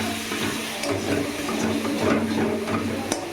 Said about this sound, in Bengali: জিরে বাটা দিয়ে ভালো করে নাড়াচাড়া করে নিচ্ছি